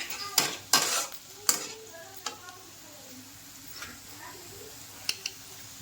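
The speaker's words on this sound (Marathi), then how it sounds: "बघा लालसर असा कांदा त्याच्यामध्ये एक चम्मच अद्रक लसूण टाकलेले आहे" Onion and ginger-garlic paste fry in a pan under a soft, low sizzle, while a utensil stirs and scrapes with several sharp metallic clinks and taps, louder early and sparser later.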